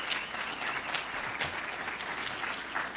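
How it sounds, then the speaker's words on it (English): An evening campus audience applauding a group of Morehouse men, a steady, full wash of clapping from many hands throughout, moderately distant. "Can we give these fabulous Morehouse men another big round of applause?"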